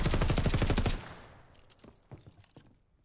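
Automatic gunfire in Call of Duty Vanguard, a loud rapid burst of shots for about a second that cuts off sharply, followed by faint scattered clicks and distant pops.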